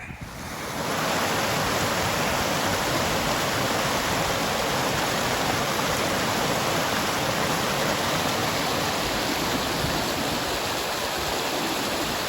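A river rushes down a valley in the Yorkshire Dales, producing a loud, steady broadband roar of flowing water that begins within the first second and continues unbroken, with no speech.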